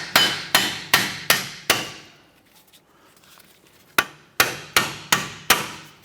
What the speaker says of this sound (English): Let's remove our two strut bolts here. I'm going to tap these out.